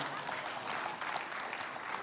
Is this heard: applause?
yes